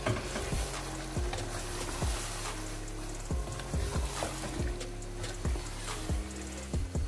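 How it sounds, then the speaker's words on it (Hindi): Chicken fries in masala for a chicken aloo curry, a constant sizzle punctuated by regular, close scraping strokes of a spoon stirring the pan, with no talking. "ये देखिए चिकन को मैंने ऐड कर लिया है। अब हम इसको अच्छे से मिक्स करेंगे।"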